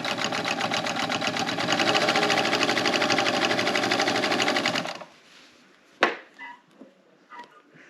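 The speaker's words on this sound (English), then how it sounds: "And I'm going to begin to sew, taking a couple stitches forward and then going back a couple stitches." A sewing machine stitches a pillowcase in one steady close burst of rapid mechanical clatter, then stops, leaving a few handling knocks and quiet.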